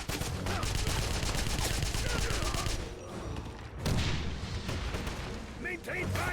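Dense gunfire from a 2009 Wolfenstein shootout on a street, rifles and machine guns crackling in rapid volleys for several seconds, easing briefly before flaring up again beneath shouted voices.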